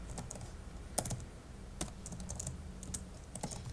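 Typing on a computer keyboard while writing Python code for a rock-paper-scissors game, close and fairly quiet, with irregular key clicks and a few sharper, louder taps, no voice.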